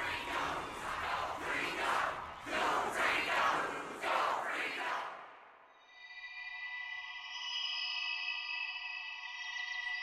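Animated Beyblade Burst Evolution stadium crowd cheering and chanting in rhythmic surging waves for several seconds, then cutting abruptly to a steady electronic tone.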